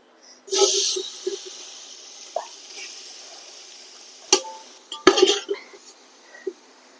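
Chopped onions drop into hot cow ghee for beef biryani masala, a loud burst of sizzling with clattering pan and utensil knocks, then steady frying crackle with a few sharp metallic scrapes and clinks near the end.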